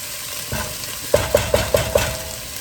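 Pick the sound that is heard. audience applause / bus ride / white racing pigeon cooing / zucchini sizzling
zucchini sizzling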